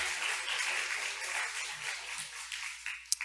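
Congregation at a church revival meeting applauding to encourage a guest preacher, a broad wash of many hands clapping that gradually thins and fades, with a few sharper isolated claps toward the end.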